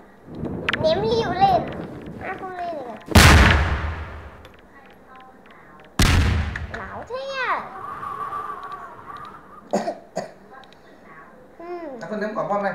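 Grenade and bomb explosions in an animated skibidi toilet multiverse battle: two loud, sudden blasts a few seconds apart, each fading out, amid excited children's chatter and babble and scattered bursts of effects.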